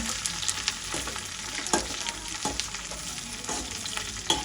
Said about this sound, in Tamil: நாங்கள் கத்திரிக்காய் போடுவோம். நல்லா மிக்ஸ் பண்ணிட்டு